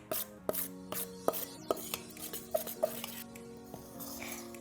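A fork stirs sugar cookie dough in a bowl for allergy-free baking, making sharp, irregular clinks and taps with soft scraping between them, close by and quiet, with no talking.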